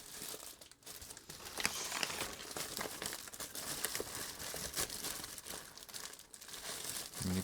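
An empty plastic bag, part of a parcel of radio components, crinkles and rustles as it is handled up close, with steady crackling and small sharp crunches throughout.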